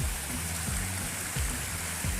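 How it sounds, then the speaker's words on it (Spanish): Gurabo river running muddy during rain, a steady broadband rush of flowing water with no voices over it and a few faint low thumps. "Según vamos caminando el río Gurabo, hoy está lloviendo, lo vamos a ver un poco sucio."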